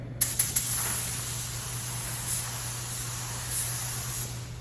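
A paint spray gun set to its regular fan pattern gives a steady, even hiss of atomized spray, with a few short sharper puffs at the start and a low electrical hum underneath.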